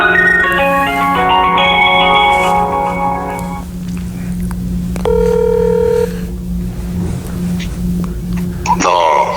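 Phone keypad tones beep in a quick sequence while dialing a call from a building's underground parking garage, followed by a steady ringing tone and another burst of tones near the end, all over a low constant hum.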